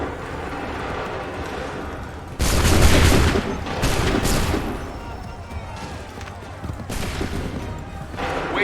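Musket volleys in Assassin's Creed III Remastered: loud ragged bursts of massed gunfire crash out in several waves, each trailing into rumble, with shouted commands between them.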